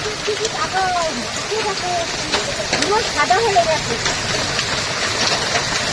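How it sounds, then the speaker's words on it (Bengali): Dense, noisy patter of heavy hail striking surfaces throughout, in a Sundarbans village, while a person talks over it. "প্রচন্ড হারে শিলাবৃষ্টি হচ্ছে।"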